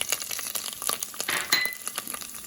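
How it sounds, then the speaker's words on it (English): Cumin seeds sizzle in hot oil in a pan while a Punjabi-style kofta dish is being cooked, giving a close, steady crackling fry with faint clinks of utensils. "Now you can hear it sizzling."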